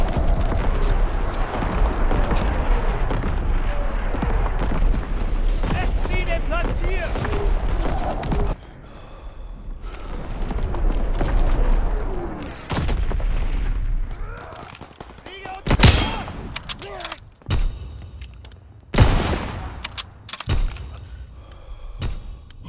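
An artillery barrage pounds a Call of Duty WWII Team Deathmatch on the Aachen map, with dense rumbling blasts and gunfire that give way to sharp, loud, separate impacts near the end, as voices speak.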